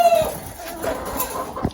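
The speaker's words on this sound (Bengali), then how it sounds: "এই যে এখানে হচ্ছে আমার মিশরীয় ফার্মি মুরগি আছে" Egyptian Fayoumi hens on a small home farm give a few short clucks, close and fairly loud, with a brief higher note at the start and no talking.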